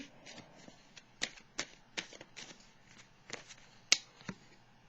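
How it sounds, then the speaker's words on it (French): Tarot cards handled and drawn from a deck, a series of crisp, separate card snaps and flicks at an uneven pace, fairly close and quiet, with no voices. "Je vais piger une autre carte ici."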